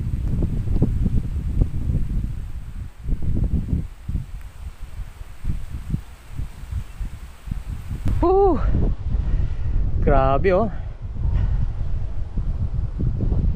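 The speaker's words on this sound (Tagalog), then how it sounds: "Lakas ng hangin ha." Strong wind buffets the microphone outdoors with a steady low roar that gusts throughout, while a person talks over it and faint whistling tones rise briefly near the end.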